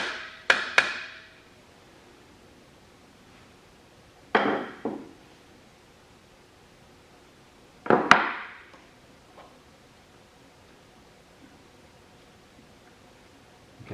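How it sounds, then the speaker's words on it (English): A hammer handle taps on metal while a clutch is refitted on an LS XR3135 tractor. Three sharp clusters of knocks arrive a few seconds apart, close and alone, with quiet workshop air between them. "Maybe I'll just use the handle of my hammer."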